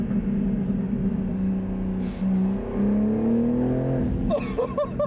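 A BMW G80 M3 with catless downpipes roars loud and close, its exhaust note climbing as the turbo spools under hard acceleration, then breaking into sharp crackling burbles near the end.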